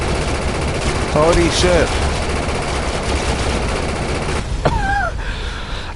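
Rapid, sustained minigun fire in the shooter game Defiance 2050, a dense continuous roar running under a voice talking, with a few sharper bursts toward the end.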